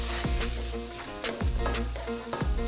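Onions and corn sizzle steadily in warm butter in a pot, a continuous close frying hiss with a few brief scraping stirs.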